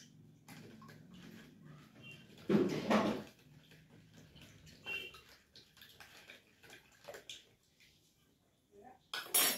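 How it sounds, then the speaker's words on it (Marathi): A spoon clinks and swirls in a glass of salted water, with a loud burst of clinking and stirring near the start and lighter taps afterward, close and fairly quiet. "परत मी चमच्याने त्याला हलवणार आहे।"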